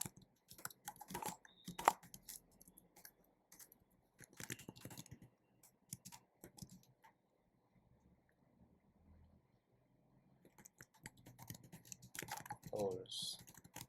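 Computer keyboard typing in short irregular bursts, clicking keys fairly close and quiet, with pauses of near silence between the runs and a voice occasionally speaking.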